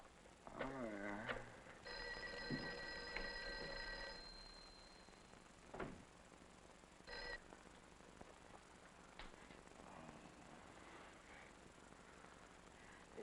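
Old telephone in a 1959 horror film, its bell ringing in repeated bursts with gaps between them, faint and left unanswered, with other quiet room sounds around it.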